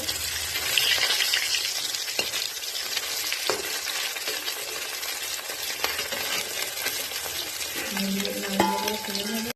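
Potatoes frying in hot oil make a dense, continuous sizzle close by, with occasional clinks from the pan and a louder bubbling burst near the end.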